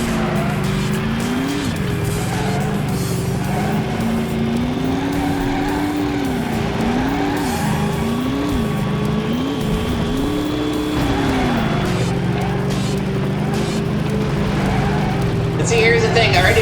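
A race car in a driving video game holds a steady, droning engine note that rises and dips with gear changes, while tires squeal and skid through corners, loud and continuous.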